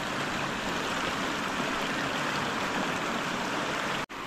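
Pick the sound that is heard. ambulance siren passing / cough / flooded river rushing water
flooded river rushing water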